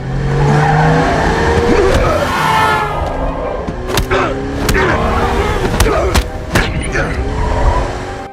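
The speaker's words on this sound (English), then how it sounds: "pulls a knife and is about to stab Robert as Robert starts to swerve the car." A car swerves hard with its tires skidding and squealing during a struggle inside a taxi. The loud skids sit in a dense, busy mix, with sharp bursts and a steady engine roar throughout.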